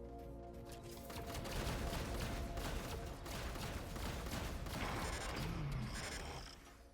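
Rapid automatic shotgun fire in the sci-fi game Carbon, a dense, continuous stream of loud blasts with mechanical clatter running through nearly the whole stretch before tapering off at the end.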